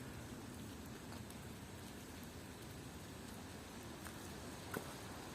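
Rain falling outdoors, a faint, steady hiss of drops with occasional louder single patters, continuous throughout with no voices.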